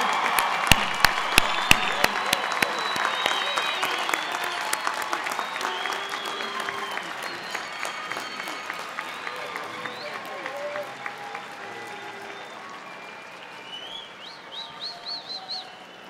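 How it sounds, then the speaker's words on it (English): Crowd at a university undergraduate commencement ceremony breaks into sustained applause with a few sharp nearby claps, the clapping gradually thinning out, with scattered cheers and an announcer speaking. "Let's have a big round of applause."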